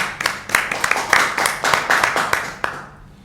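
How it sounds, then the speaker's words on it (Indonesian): Hands clap in a short burst of applause from a small group, sharp, close claps in an irregular rhythm that thin out and stop after about three seconds. "Tepuk tangan dong."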